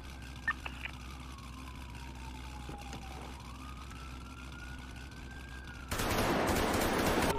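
A wailing police siren rises and falls in a GTA roleplay video game, then a sudden loud burst of police gunfire erupts and continues to the end.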